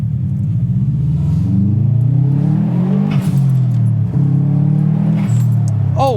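A Subaru WRX STi bug-eye with a JDM EJ207 engine revs close by, a loud throbbing rumble whose pitch rises and falls through several blips.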